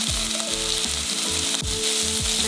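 Sliced onion frying in a pan with toasted ginger and being stirred, a dense, continuous close sizzle broken by repeated scraping stir strokes throughout, with no talking.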